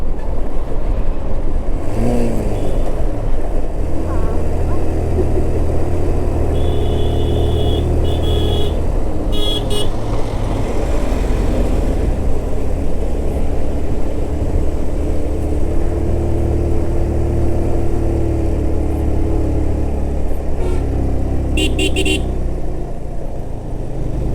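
A car engine braking on a descending hill road toward Sajek gives a loud, steady low rumble throughout, with a few brief horn-like tones and occasional voices.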